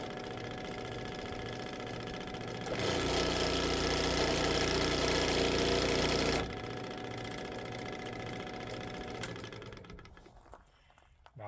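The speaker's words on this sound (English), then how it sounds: "this is a 16-inch scroll saw. Okay. It's a Delta. It's a 2-speed." A Delta 16-inch two-speed scroll saw runs with a steady mechanical buzz and rapid reciprocating chatter, growing louder midway before dropping back and winding down near the end, with no talk.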